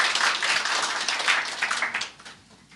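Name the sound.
audience applause welcoming newcomers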